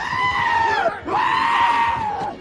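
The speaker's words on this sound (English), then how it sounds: "Giant goats!" Goat bleats, two long wavering cries back to back, loud and close, with a brief dip between them and no talk over them.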